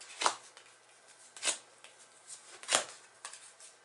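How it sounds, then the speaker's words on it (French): Playing cards for a belote game are dealt in threes, giving a few soft, quiet flicks and slaps of cards spaced about a second apart. "ce qu'on fait c'est qu'on distribue par 3 les cartes"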